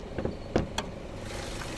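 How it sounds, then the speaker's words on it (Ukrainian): A 2008 Mazda 6 with a 2.0-litre petrol engine idles steadily at close range, a low even hum with a couple of faint clicks near the start. "Так, тепер подивимося, як працює двигун."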